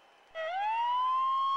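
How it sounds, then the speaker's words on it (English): Rising siren wail opening Scott Steiner's wrestling entrance theme at a TNA Impact event, sweeping upward and then holding loud and steady. "The siren confirms that this is the sound of Scott Steiner coming out right now."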